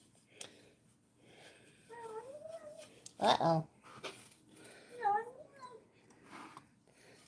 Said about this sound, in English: That's the sound of a cat about to throw up on my floor,